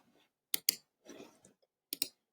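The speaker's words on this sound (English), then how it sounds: "I'm going to click Apply." Mouse clicks at a computer while editing Google Slides, two quick close pairs of sharp clicks separated by a soft rustle, quiet and near in an otherwise silent room.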